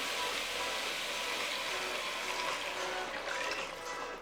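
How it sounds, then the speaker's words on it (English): Water pours steadily into a cooking pot for chicken soup, a continuous splashing, gurgling rush up close, with no talking. "Now let's go ahead and pour the water."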